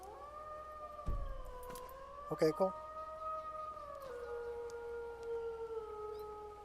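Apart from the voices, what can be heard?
wolf howls from Skyrim mod in video game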